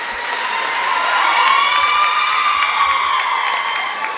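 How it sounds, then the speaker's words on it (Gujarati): A crowd at a New Year community gathering cheers and applauds for a group of children, a steady, dense wash of clapping and shouts that swells slightly in the middle and carries throughout. "બધાને તાળીઓથી વધાવી દો."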